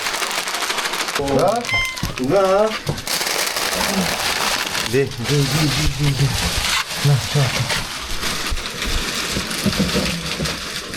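A cat meows several times in rising and falling calls, close by, amid background clatter and noise at a Ukrainian territorial defense brigade position, with people talking nearby.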